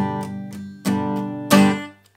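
An acoustic guitar strumming pattern of long and short strokes, finishing with a final strum that is abruptly cut off, close and fairly soft with no voice.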